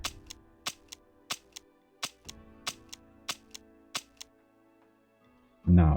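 Ship cannons firing a broadside in the game From the Depths, about a dozen sharp evenly spaced shots in a steady rhythm, then a heavy burst at the end.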